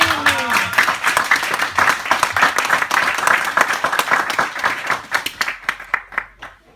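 A church congregation at a Sunday worship service claps and cheers in praise, a dense, sustained round of applause that thins into scattered claps near the end, with voices mixed in.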